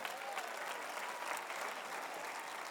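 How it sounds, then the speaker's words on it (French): A church congregation at a Christmas celebration applauds together, a dense, steady wash of clapping filling the room throughout. "Voulez-vous applaudir avec moi?"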